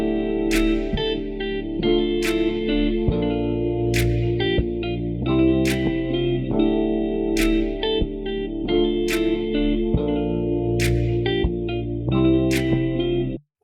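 The Arterberry loop from the Native Instruments Satin Looks expansion plays a dense, sustained tonal bed with a steady rhythmic pulse and bright accented hits, heavily effected with chorus-like shimmer, continuous and loud with no talk.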